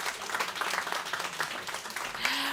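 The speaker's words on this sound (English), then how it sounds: "Let's give him a round of applause." Audience applause at the MTN Business SME Day 2023 conference: a dense, even patter of many hands clapping together, fairly soft and sustained for a couple of seconds.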